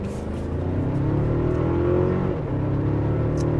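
A Toyota Tacoma pickup truck accelerates at full throttle from 0 to 60, its engine droning in a steady rising tone with a brief dip at a gear change, close and continuous, with no talking.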